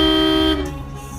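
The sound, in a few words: car horn honking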